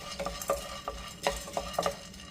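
Dal dry-roasting in a pan as a spoon stirs it, quiet scattered scrapes and light rattling taps in an irregular rhythm, close by, with no talking.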